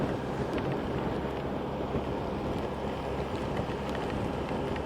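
Wind and rain roar steadily around a rider on a 2007 Yamaha FJR 1300A motorcycle, producing a constant, fairly faint broadband rush of air and spray with no speech.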